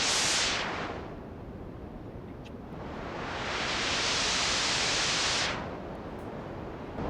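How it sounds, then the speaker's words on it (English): Synthesized white noise hisses steadily, its bright top end cut away by EQ so it turns duller, then opens back up to full brightness before being rolled off again. "So I'm generating a white noise by pressing a key."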